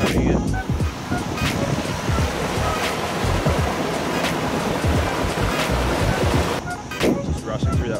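Incoming sea tide rushing through a floodgate, a loud, steady roar of churning water with gusty wind noise throughout and no voices.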